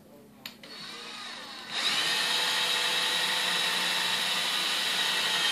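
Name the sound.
power drill drilling holes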